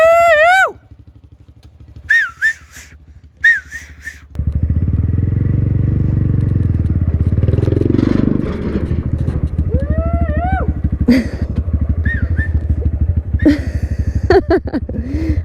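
A motorcycle engine revs and roars steadily as the bike is ridden up a ramp into a pickup truck bed, loud and close, with excited voices and shouts over it.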